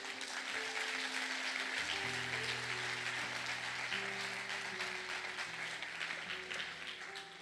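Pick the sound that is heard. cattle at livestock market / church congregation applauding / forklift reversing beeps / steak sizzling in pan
church congregation applauding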